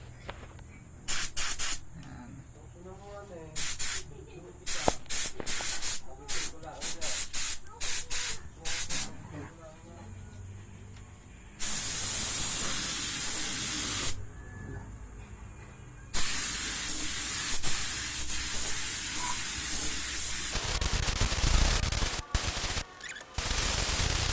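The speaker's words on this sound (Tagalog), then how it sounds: "Set lang natin yung spray gun natin." Spray gun spraying top coat paint during a car restoration, with repeated short bursts of hissing spray followed by long, sustained loud spray passes, with occasional talk in between.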